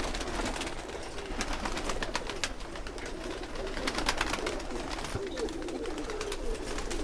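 Batera pigeons, a flock including 35 Batera birds, cooing in low, soft repeated calls close by, with scattered chirps and rustling over a steady background and no talking.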